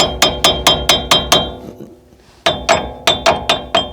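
Metal hammer blows during reassembly of a Ford Ranger hub bearing, a rapid run of about eleven sharp, loud strikes in two bursts separated by a brief pause, close and without talk.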